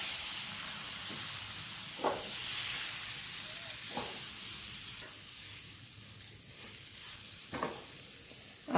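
Eggs frying with Kashmiri chilli powder in a pan for an egg ghee roast, an even close sizzle with a few brief louder spatters and stirs spaced apart, no voices.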